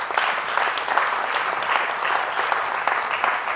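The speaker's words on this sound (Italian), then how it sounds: "è il quinto applauso che vi chiedo" An audience at a young entrepreneurs' public assembly in Venice claps in sustained, dense applause, a steady roar of many hands with slight swells, no voices standing out.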